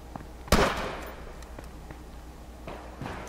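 A single sharp gunshot from the video game H1Z1 cracks out loudly, followed by a few fainter distant pops and shuffling footsteps.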